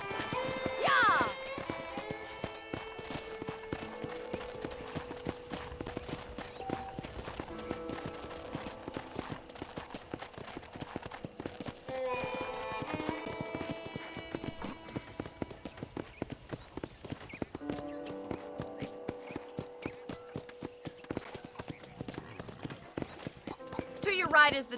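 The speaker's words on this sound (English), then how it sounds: "let's see if you can still ride a horse." Rhythmic horse hoofbeats in Red Dead Redemption clip-clop steadily under background music, with a voice speaking at times.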